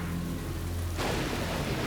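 Heavy storm rain hisses steadily, joined by a dense rumble of thunder in the second half, a continuous loud wash with no voices.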